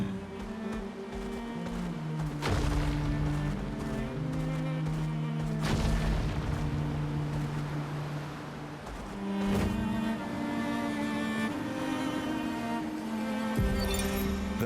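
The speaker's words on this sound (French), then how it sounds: "I can hear a big Nev coming." Deep booming impacts from a big Nevron approaching in the video game Clair Obscur: Expedition 33, heavy thuds spaced every few seconds over sustained droning game music, loud and resonant throughout.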